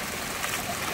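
Small stream flowing under a little bridge near Foothill in Logan, Utah, a steady, close, broadband rush and trickle of water with no voices over it.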